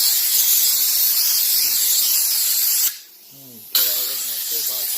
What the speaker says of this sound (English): go ahead and take your air gun, blow that bad boy off